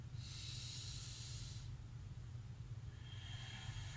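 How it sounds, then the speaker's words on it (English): A slow inhale during guided meditation, a soft airy hiss that swells and fades over a low background rumble, with no talking. "So as you're breathing in"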